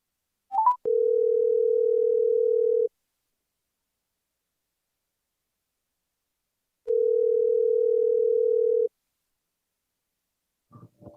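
A telephone call rings out with two long, steady tones of about two seconds each, separated by a long silence, clear and unaccompanied by speech, with a faint brief noise at the very end.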